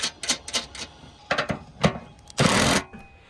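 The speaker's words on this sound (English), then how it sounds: "we install an L-foot, sealing washer, and torquing all of this" A power tool rattles in short, close bursts, ending in one longer run, as an L-foot and sealing washer are torqued down onto an Iron Ridge knockout tile on a clay tile roof.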